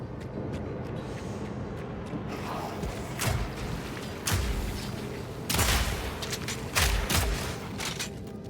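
Grenades burst repeatedly during combat in Path of Exile 2, a steady run of punchy thuds and crackling blasts at mid distance over dense game noise, with no voices.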